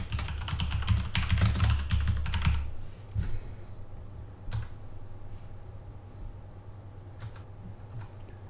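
Rapid clattering keystrokes on a computer keyboard while editing code in a .NET Core Razor application, then sparse single key taps over a low steady hum, with no talking.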